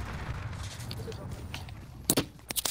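In Modern Warfare survival mode, a few distant muffled blasts and sharp bangs crack over a steady low rumble of game ambience, arriving in short clustered bursts near the end.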